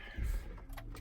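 Keys for a 2016 Ford Expedition EL Platinum jingle faintly in a couple of quick, light bursts over a low rumble inside the SUV.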